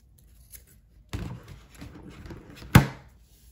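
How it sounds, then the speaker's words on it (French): A rope for a crocheted basket snipped with scissors: one sharp, loud cut near the end, after a few quieter rustling handling sounds, with no talking. "Je vais couper aussi ma corde."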